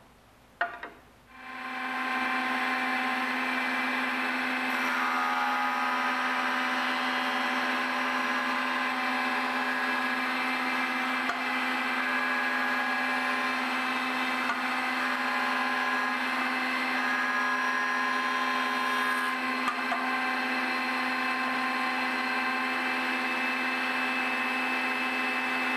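A jointer planes a wooden part for a bentwood library stand, starting up with a clunk and then running as a steady, loud, high-pitched whine with the cutter head humming throughout, alone without talk.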